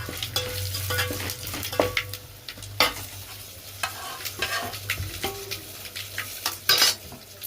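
Dal tadka sizzles and fries in a hot pan while a spoon scrapes and clinks against the metal in irregular stirring strokes, close and fairly loud.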